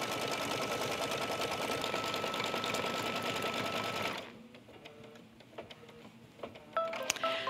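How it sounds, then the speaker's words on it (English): Embroidery sewing machine stitching a triple stitch along the fold of a piece of cork, a rapid, even mechanical chatter for about four seconds that stops abruptly, leaving faint clicks and small handling noises. "It's stitching a triple stitch right here at the fold of the cork to hold it nice and flat and in place."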